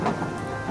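Heavy rain pours steadily in an animated Hindi village story, with a low rumble of thunder beneath the hiss of the downpour in a short, dense burst.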